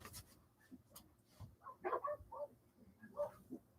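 A dog barks and yips faintly in the distance, a few short scattered calls in an otherwise quiet space.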